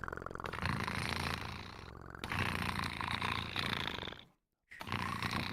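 Several people imitate a cat's purr with their voices, making a loud, continuous rumbling drone for about four seconds. A short silent gap follows, then the purring resumes.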